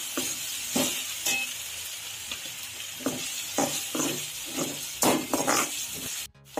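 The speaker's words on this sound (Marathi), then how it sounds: "आलं लसूण पेस्ट टाकली ती आता त्यामध्ये छान परतून घेऊ आपण" Ginger garlic paste sautéing in a hot pan for bombil chutney, with a steady sizzle broken by repeated scraping stir strokes, close and fairly loud, no talking.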